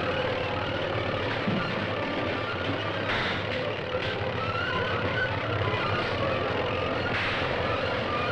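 A tractor engine from the 1944 Captain America film serial drones on steadily, a dense, unbroken mechanical rumble with a rough, noisy texture that stays at an even level throughout.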